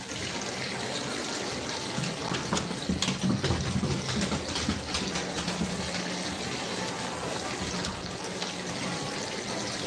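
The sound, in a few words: water running through a gold sluice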